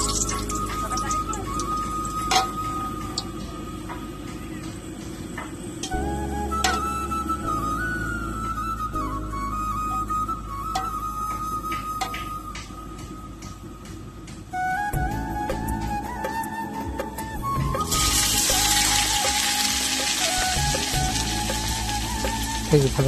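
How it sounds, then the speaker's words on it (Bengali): Bay leaves frying in hot oil for a fish curry, a continuous moderate sizzle with faint clinks of utensils, growing brighter and louder in the last few seconds. "প্রথমে গরম তেলে তেজপাতা দিয়ে দিলাম।"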